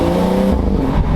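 BMW F30 340i with a B58 engine and catless downpipe revs hard, its loud raspy exhaust surging in two close pulses with no talk over it.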